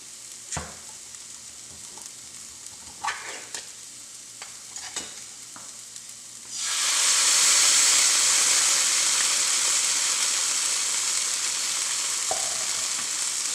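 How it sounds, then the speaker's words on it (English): Crushed tomatoes cooking down into a paste for a coconut-milk red fish stew start with a few stirring clinks and scrapes, then a loud, steady close sizzle takes over and holds to the end. "we're going to let those crushed tomatoes cook down till they get to a paste-like form"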